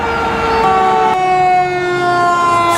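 A toy fire truck's electronic siren wails loud and close, a steady tonal whine that shifts pitch partway through, with no talk over it.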